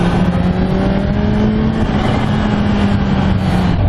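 A Kawasaki Ninja H2 motorcycle engine revs hard and loud at close range, a dense roaring snarl held steady for several seconds with a faint rising whine running through it.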